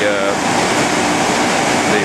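Water pours off the end of a dissolved air flotation unit into a pond at a high-volume batch treatment site, a loud, close, steady rushing wash with no pauses.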